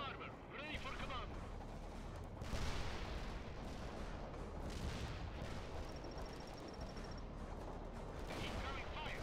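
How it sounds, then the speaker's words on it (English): Incoming artillery and gunfire in the video game World in Conflict: a dense, continuous roar of shelling and shots with surging blasts around the middle, game voice chatter faintly mixed in. "Incoming fire."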